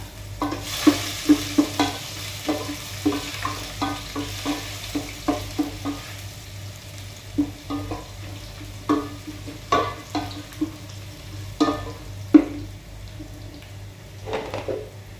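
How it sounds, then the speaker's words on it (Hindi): Finely chopped garlic and ginger frying in a pan for chicken mandi, a soft continuous sizzle under frequent rhythmic stirring scrapes and taps of a spoon against the pan, with no voices. "सो बारीक चॉप केलेले लसूण, आले ते घालपाचे. बरे तळसून घेऊया."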